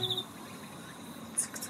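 A tsukutsukuboshi cicada gives short, high-pitched chirping bursts, one at the start and another near the end. The calls sound faint, with quiet background noise in between.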